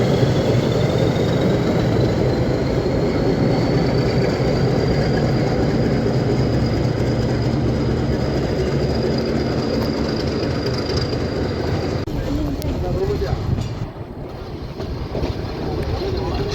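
A Nilgiri toy train rolls near Wellington station in a loud, continuous rumble of wheels and carriages with a high sustained squeal along the rails, then the noise shifts and briefly drops before the running resumes.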